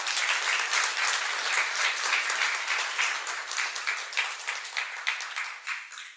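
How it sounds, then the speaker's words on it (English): A lecture audience claps through a full round of applause, dense and even, then thins slightly and fades near the end; a medium-sized crowd heard at moderate distance with no talking over it. "If we could get one last round of applause for Alexia."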